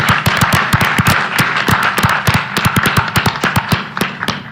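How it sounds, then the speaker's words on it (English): An indoor audience at a House committee field hearing gives the Luke Air Force Base Color Guard loud, dense applause, with many close, sharp claps that hold steady and then thin slightly at the end. "Let's give them a round of applause."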